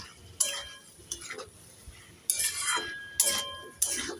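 A utensil stirs chopped green chillies into a pan of vegetarian kochur loti, giving several separate clinking scrapes against the pan that come at an uneven pace and sound fairly faint.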